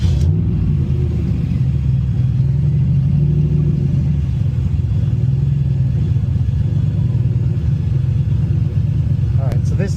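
Turbocharged drag car engine on the trans brake at a track day, a loud, deep, steady rumble with slight swells in pitch throughout, close by.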